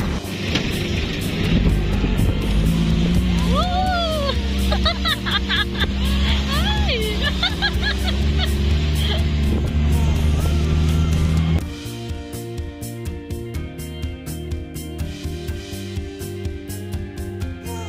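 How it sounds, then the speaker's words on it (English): A 4x4 off-road vehicle rumbles across the lahar fields left by Mount Pinatubo's 1991 eruption, its engine droning loudly and steadily throughout, with a voice heard over the first part. "Riding a 4x4 is an adventure itself, so we're driving through the Lahar fields left by the 1991 eruption of Mount Pinatubo."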